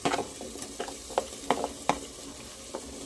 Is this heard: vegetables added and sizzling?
yes